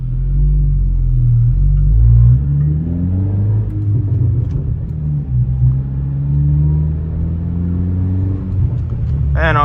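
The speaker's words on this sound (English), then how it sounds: "You guys can hear that rumbling from the exhaust or the burbles." A Honda Type R with a Remark exhaust idles and pulls away at a four-way stop, its deep exhaust rumble and low burbles filling the cabin loudly and steadily throughout.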